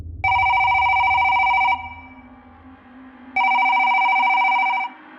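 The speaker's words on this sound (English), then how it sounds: "I woke up not to the vibration, but to the ringtone blaring." A phone ringtone plays two long, loud, bright electronic ringing bursts, each lasting about a second and a half, separated by a short pause.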